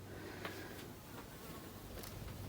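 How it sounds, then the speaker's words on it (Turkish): A housefly buzzing indoors in a home, a faint, steady drone that carries on without a break and with no voices over it. "Sinek yine mi girdin?"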